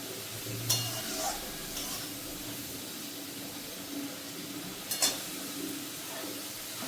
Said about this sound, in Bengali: তেলটা গরম হয়ে গেছে, এখন আমি পেঁয়াজ কুচি দিয়ে দিচ্ছি।